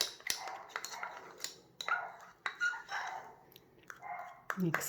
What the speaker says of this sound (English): Excuse my dog for barking.